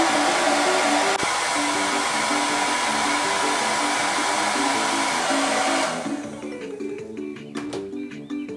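A 1,500-watt hair blow dryer runs steadily with a loud, broad airy roar and a faint motor tone, then cuts off near the end, leaving a quieter room with light ticks.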